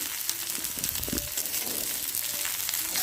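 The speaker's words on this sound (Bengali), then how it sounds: "পেঁয়াজটা ভাজা হয়ে গেছে" Chopped onion frying in hot oil with whole cumin and bay leaf, a steady crackling sizzle with occasional spatula stirs and scrapes, close up and without talking.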